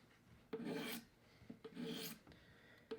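Single bevel broadhead being sharpened by hand on a file or stone, three rasping strokes close by, each about half a second, with short pauses between them and no talking.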